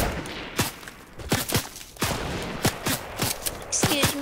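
Video game gunfire in a Fortnite Team Rumble match, sharp loud shots cracking in quick irregular bursts across the whole stretch, some close and some more distant, with no talk over them.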